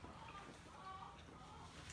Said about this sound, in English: Listen to the white noise that is the chickens.